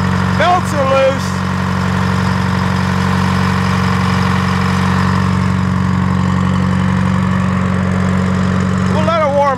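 A loud engine idles steadily as it warms up after a test start, with loose belts and air being worked out of the system. A voice briefly talks over the constant rumble at the start and again near the end.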